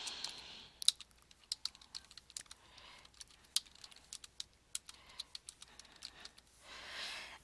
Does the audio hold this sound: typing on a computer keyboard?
yes